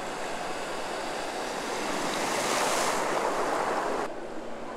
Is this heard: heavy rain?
yes